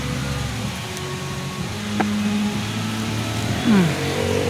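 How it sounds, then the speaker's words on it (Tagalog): Heavier rain pouring outdoors beneath trees, a dense steady wash of hiss with a low rumble underneath, a brief tonal whine and a short rising sweep near the end. "Yan, lumakas na po yung ulan, oh."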